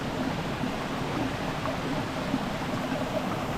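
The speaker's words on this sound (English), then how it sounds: "So this actually took me to a little creek here." Small mountain creek flowing near the top of a waterfall on a Blue Ridge Parkway hike in North Carolina, a constant soft rushing wash without voices.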